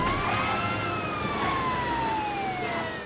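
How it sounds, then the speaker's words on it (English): In LEGO DC Super-Villains, a wailing police siren rises and falls continuously, loud and close, over a low vehicle rumble. "I'll put the sirens on."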